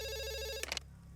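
A telephone ringing, a steady electronic ring tone that cuts off abruptly, followed by a brief clatter.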